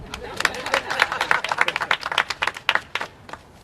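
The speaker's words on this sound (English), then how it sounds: "you give a round of applause for that" Audience applauding a congressman's funding announcement in Yonkers, brisk clapping with distinct sharp claps building and fading over a few seconds at a public event.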